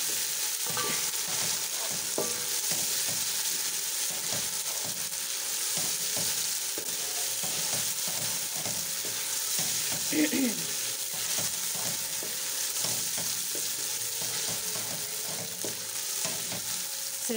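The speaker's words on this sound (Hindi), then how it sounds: "लहसुन अदरक डाल के आपने इसको भी अच्छे से भून लेना है।" Garlic and ginger sautéing in a pan while being stirred, a steady bright sizzle with scraping and clinking of a utensil throughout, close and fairly loud, with no talking.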